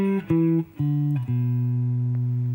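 A few clean electric guitar notes from a solo phrase, joined by smooth pitch slides between them, ring out clearly with no talking.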